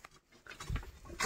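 Light rain patters softly in a village during crab catching among stones, a brief, faint, uneven spatter lasting about a second with a few louder drops near the end.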